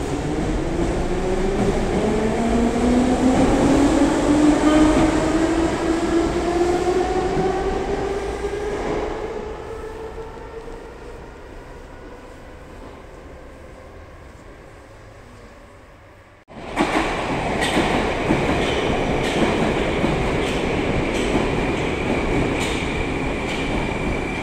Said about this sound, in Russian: Новые российские вагоны.